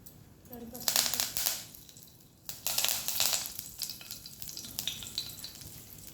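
Cumin and curry leaves frying in hot oil, a loud crackling sizzle that surges twice as they hit the pan, then settles into a steady fry with faint voice in the background.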